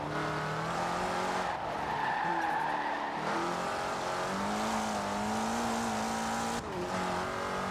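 A front-wheel-drive Opel (Vauxhall) Astra spins its wheels and skids in Forza Horizon 4, with a continuous loud tire squeal over a steady droning engine, sustained for several seconds with brief dips.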